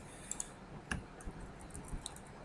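A computer mouse right-clicked during work in laboratory diagnostic management software, giving a few faint, sharp clicks spread out over quiet room noise.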